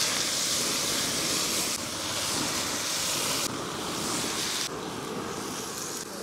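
Eggplant pieces sizzling as they drop into hot oil tempering for a Dharashiv-style dish, a loud, steady broadband hiss that holds throughout with small shifts in intensity and no voices.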